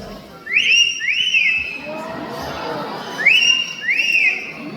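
A parrot whistles clear, rising two-note phrases imitating a whistle, repeated twice with a pause between, loud and close during a bird show over faint background chatter.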